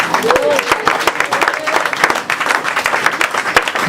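A church congregation applauding and cheering: steady dense clapping from many hands with crowd voices, loud and sustained throughout, with a voice speaking over it.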